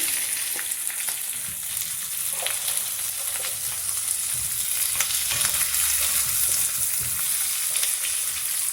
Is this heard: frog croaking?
no